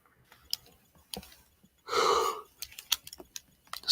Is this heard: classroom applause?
no